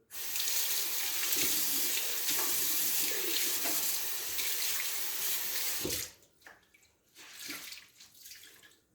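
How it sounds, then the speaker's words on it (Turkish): A kitchen tap runs steadily while floury hands are washed, a loud close rush for about six seconds before it shuts off, then drips, splashes and light handling in a quieter room. "Şu elim un oldu bir yıkayayım."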